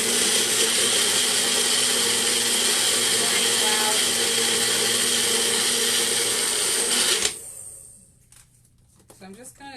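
A bullet blender whirs loudly and continuously while blending vegan Caesar dressing, then cuts off abruptly, leaving faint rattling and handling sounds.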